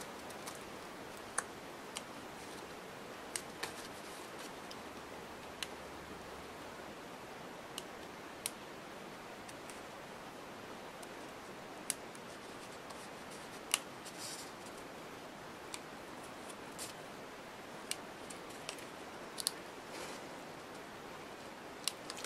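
Scissors snip paper for a scrapbook, cutting out tiny fussy-cut pieces. Soft, irregular clicks and snips repeat for over twenty seconds over a low background hiss.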